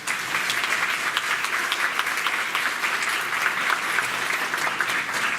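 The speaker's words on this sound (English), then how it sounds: "let's give a round of applause" An audience at a school board meeting at Morrill Elementary gives a round of applause: dense, even clapping from many hands, moderately loud and sustained throughout with no talking over it.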